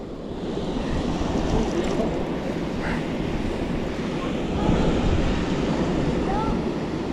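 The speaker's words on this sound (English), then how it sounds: "Cute little brook." A small brook flows in a forested camping area, a continuous broadband rushing of water, close and steady, with some wind noise against the microphone.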